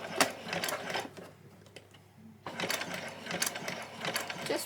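A sewing machine stitches fabric in quick mechanical bursts with a clattering, gear-like rhythm, stopping briefly midway before running again, close and clear with no voices.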